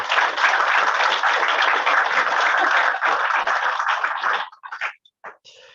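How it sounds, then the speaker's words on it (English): An audience claps at a celebration of Sri Ramakrishna's birth, a loud, dense wash of applause that holds steady and then thins into a few scattered claps before stopping. "So please give them a big clap."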